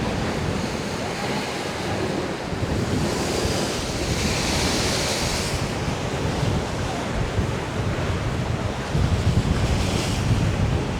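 Waves from the sea off a rocky shore in Malta surge and wash continuously, with heavy wind buffeting the microphone throughout and a stronger rush near the end.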